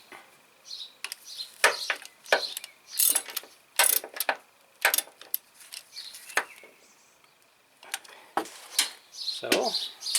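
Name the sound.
ratchet loosening timing belt tensioner on Hyundai Accent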